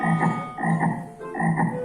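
Frog croaking sound effect: three quick rhythmic bursts of throaty croaks, fairly loud and close, with short pauses between them and no voices.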